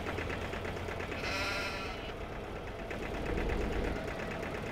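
Sheep bleating in Farming Simulator 15, a few drawn-out wavering bleats over a steady low engine idle hum that runs beneath throughout.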